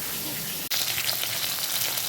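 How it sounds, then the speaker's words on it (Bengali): Pieces of khoirshula fish frying in hot oil, a steady dense sizzle running close and loud throughout, broken once by a sharp click just before the sizzle swells slightly. "তেল গরম হয়ে গেছে, এবার আমি একে একে মাছের পিসগুলো দিয়ে দেবো।"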